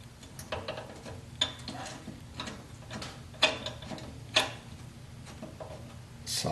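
A ratchet with a 1/2 inch socket tightens header clamps on a 1976 Corvette restomod exhaust, producing short bursts of rapid clicking with a few sharper metallic clanks against a low background hum.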